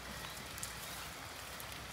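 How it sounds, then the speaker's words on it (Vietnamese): Rain falls steadily as a faint, even hiss of drops on surfaces, continuous throughout and unaccompanied by any talking. "Cỡ này mưa có gì đâu sợ."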